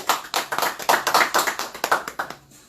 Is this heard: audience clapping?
yes